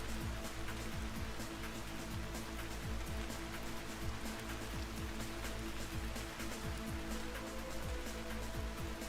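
Rain pouring down in the survival game Vintage Story, an unbroken hiss of dense droplets pattering on the ground, steady and fairly loud from start to finish, with no voices over it.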